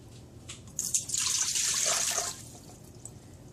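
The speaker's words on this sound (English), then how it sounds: "two and a half cups of water." Water poured into a plastic measuring cup for cooking basmati rice, a close splashing stream that starts abruptly, runs steadily for about a second and a half, then tapers into a few faint drips.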